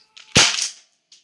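An airsoft gun fires a single sharp, loud crack with a brief mechanical click before it and a faint click trailing after.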